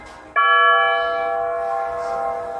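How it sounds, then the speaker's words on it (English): A single bell strike with a sharp onset, then a steady ringing tone rich in sustained overtones that fades slowly, clear and close with no voices. "I can play the resynthesized bell sound"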